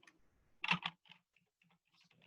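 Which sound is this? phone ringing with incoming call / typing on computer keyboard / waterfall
typing on computer keyboard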